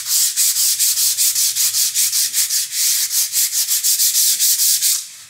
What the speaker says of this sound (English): And we're going to go into flat sandpaper,